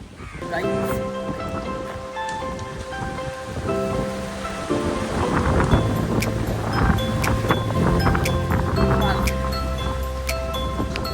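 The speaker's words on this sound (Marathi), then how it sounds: "पाऊस येतोय ना" Steady heavy rain hisses with gusting wind and low rumbles of thunder, while voices speak intermittently over the downpour.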